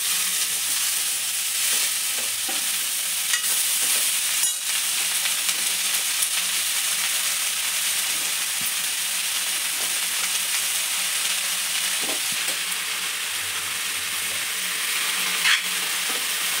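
Vegetables sizzling and frying in a hot pan with turmeric and chilli powder, a loud continuous hiss that holds throughout, with a few scattered scrapes and taps of a spatula being stirred.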